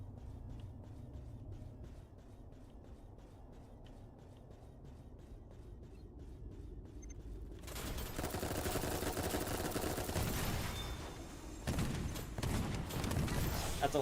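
Shotgun fire in a video game, a fast series of faint, regular shots at first, then much louder, denser blasts and rumbling in the second half. There is no talking.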